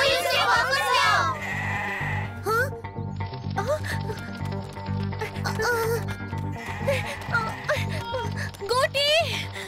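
Cartoon goat bleating in a children's animated show, repeated bleats over a busy, loud music bed with steady background tones, with animated character voices mixed in.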